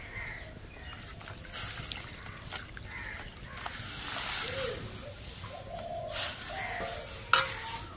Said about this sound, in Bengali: এভাবে নাড়তে নাড়তে আস্তে আস্তে ঠিক গলে যাবে।